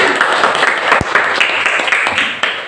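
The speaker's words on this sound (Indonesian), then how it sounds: "Oke, beri aplaus dulu kepada Maulana." A classroom of students applauds for Maulana, a vocational high school student, in a short, loud burst of dense clapping that stays steady for a few seconds.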